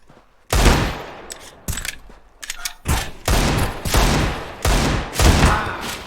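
Gunfire in the CS:GO video game, with loud, close bursts of rapid automatic shots fired in repeated volleys and short pauses between them, plus brief mechanical clicks, and no talk.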